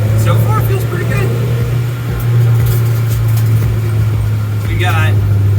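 A track car on a test drive with a new wheel alignment, its engine and road noise a steady loud drone from inside the cabin throughout, with faint voices in the background.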